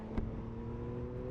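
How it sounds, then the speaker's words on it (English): The engine of a Yamaha MT-09 motorcycle hums low and steady, a quiet, throaty drone with a faint rise in pitch over a brief moment. "you have an engine that is seriously addictive, with the way it just grunts, rolling on and off the throttle"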